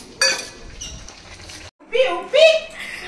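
Chicken meat is stirred in a cooking pot, giving a few clinks and scrapes of a utensil against the metal pot, close by and mixed with talking and a voice.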